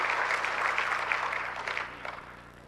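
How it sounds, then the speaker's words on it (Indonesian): A large audience at a national business chamber leadership meeting applauds, a dense wash of clapping that is moderately loud at first and fades out over about three seconds. "Tepuk tangan dong untuk Ibu Bapak sekalian menyiapkan panitia hari ini."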